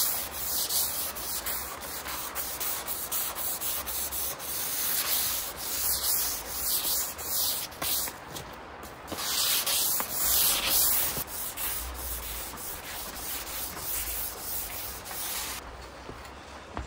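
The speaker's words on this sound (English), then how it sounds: "So this is 600 grit sandpaper, and I'm going to use it just to do a nice light sanding over" Light hand sanding with 600 grit sandpaper over a mid-century modern wooden table during restoration, a continuous soft rubbing with repeated back-and-forth strokes, close up and alone, no speech.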